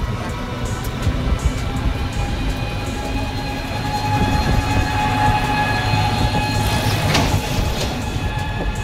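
A train rumbles steadily past a railway platform with continuous heavy low clatter and wheel noise, loud and close, with a brief brighter screech of metal partway through.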